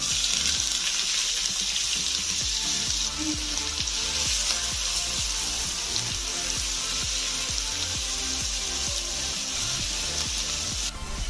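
Onions hit hot oil already fragrant with cardamom, cinnamon, bay leaf and five-spice seeds, producing a dense, continuous sizzle up close with a rhythmic series of stirring scrapes running underneath throughout.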